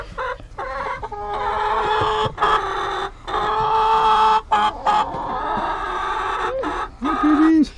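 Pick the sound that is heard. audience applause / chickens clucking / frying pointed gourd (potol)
chickens clucking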